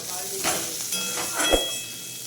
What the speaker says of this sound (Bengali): এখানে কড়াইতে পেঁয়াজ আর রসুন দিয়ে দিয়েছি গরম তেলে